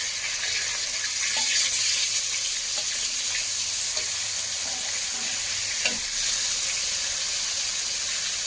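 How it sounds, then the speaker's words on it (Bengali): Steady, loud sizzling of native freshwater fish frying in oil in a pan, a continuous hiss with small pops and occasional stirring or scraping. "মাছ ভাজা এক পিঠ ভালোভাবে হয়ে গিয়েছে।"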